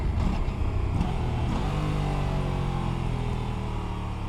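A motorcycle engine braking after a downshift from fourth gear, a steady loud engine drone whose pitch slowly sinks as the bike slows, heard from the rider's position with constant wind and road noise.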